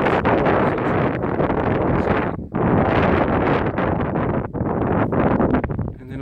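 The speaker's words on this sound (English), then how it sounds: "The wind's just picked up" Strong wind gusts at a rubbish tip, buffeting the microphone in a steady loud roar with a couple of brief lulls.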